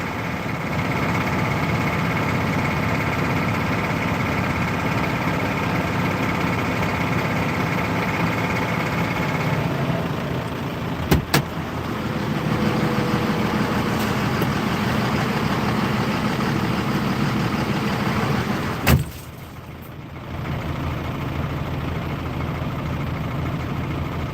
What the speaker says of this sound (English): The hydraulics kicked in. Everything lifted up.